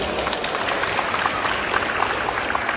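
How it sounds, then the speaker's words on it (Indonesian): An audience at an Islamic lecture gives a dense, even round of applause, a continuous wash of hand claps with no talking. "Tepuk tangan dulu untuk dia"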